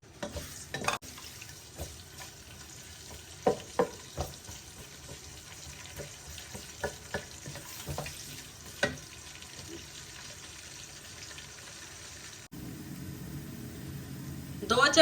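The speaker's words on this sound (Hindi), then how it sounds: "प्याज हमारा इतना सौते हो चुका है" Two medium chopped onions sautéing in oil for a bottle gourd and chana dal curry, a low sizzle with scattered clinks and stirring knocks, fairly quiet, with a louder frying burst near the end.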